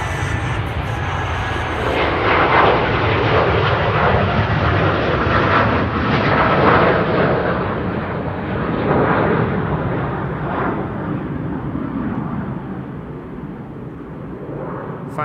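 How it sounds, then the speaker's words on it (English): Wide-body airliners take off at Amsterdam Schiphol with a loud, sustained jet engine roar that swells and slowly fades, broad and rumbling, with no talk over it. "Finally some wide bodies taking off here."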